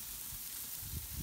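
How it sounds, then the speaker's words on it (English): Steak sizzling on an outdoor grill gives a steady, soft hiss through a short stretch, with no voices over it. "We're out here, grilling some steak"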